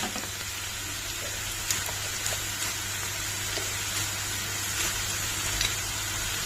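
Onions frying in a pan sizzle with a steady, dense hiss and small faint pops throughout.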